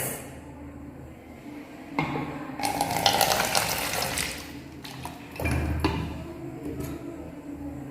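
Water splashes and gurgles as 80 ml is poured into each of two differently shaped containers in short bursts, close by, with a pause between pours.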